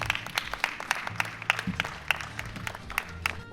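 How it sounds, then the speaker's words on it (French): Scattered applause from a small audience at a wedding fair in Le Port, Réunion, welcoming a speaker: irregular, fairly close claps with a low murmur and background music beneath. "Sous vos applaudissements, s'il vous plaît"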